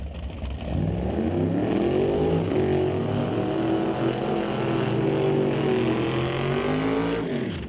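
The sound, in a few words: 1967 Camaro drag race car racing down the track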